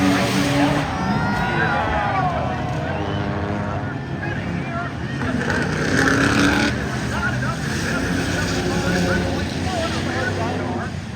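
Race cars roar around the oval at Langley Speedway during a Fall Day of Destruction event, a steady loud engine drone with passing surges, under continuous talk from a commentator.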